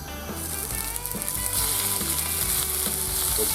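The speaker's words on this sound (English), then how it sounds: "We're just going to fry them lightly" Squid tentacles frying lightly in olive oil in a frying pan, a steady bright sizzle running continuously throughout, close and loud, with no talking.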